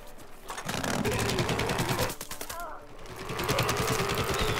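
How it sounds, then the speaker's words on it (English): Rapid automatic gunfire from a player shooting at an enemy spawn in Plants vs. Zombies: Garden Warfare 2, with dense repeated bursts and a short lull in the middle, mixed with other game effects. "I'm just spawn shooting them."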